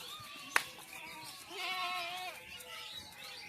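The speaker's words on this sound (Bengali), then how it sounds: "আরও কিছু ছাগল আছে, পাঁঠা ছাগলগুলো আছে" A goat on a goat farm in West Bengal gives one drawn-out, wavering bleat at moderate distance, preceded by a sharp click and set against quiet farm background.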